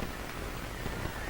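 Steady rain falls on a football pitch during a middle-school match, a dense, even hiss of drops hitting the surface with no pauses over the brief moment.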